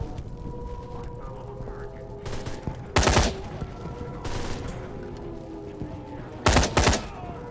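Short, loud bursts of gunfire in a sci-fi video game, two sharp volleys standing out against a low droning background, with someone talking briefly between them.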